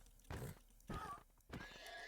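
A horse in the Minecraft video game neighs and whinnies in three short bursts, moderately loud, over a quiet, steady game background.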